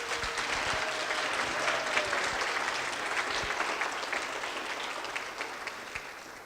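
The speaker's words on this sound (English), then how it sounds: "Can you please give Mike and Diane Beemer a round of applause for tonight?" Applause for Mike and Diane Beemer at a Legacy Society recognition dinner, a steady, full crowd clapping that holds evenly throughout and tapers slightly at the close.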